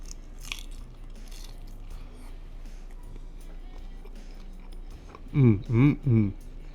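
A crispy-skinned smoked chicken wing is bitten and chewed close up, with three loud crunching bites near the end after a quiet stretch of low background noise.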